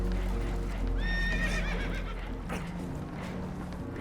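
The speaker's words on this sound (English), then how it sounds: "Horses are spooked" Spooked horses on a boat in Red Dead Redemption 2 give a loud, shrill whinny near the start, followed by snorting and hoof clatter over a deep, steady rumbling background.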